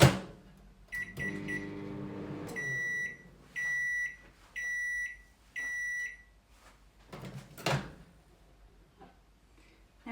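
A microwave oven heating a white chocolate fudge mixture, with a door clunk, button beeps and a low hum, then a run of repeated loud electronic beeps in evenly spaced bursts.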